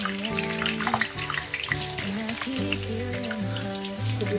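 Large chicken, potato and cheese snacks fry in hot oil, a continuous bubbling sizzle with crackles, moderately quiet, under a steady low hum and no talk.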